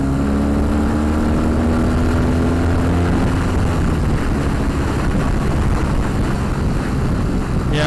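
A BMW R 18 Roctane motorcycle riding at speed, its engine droning loud and steady with a low rising tone beneath constant wind rush, no voices.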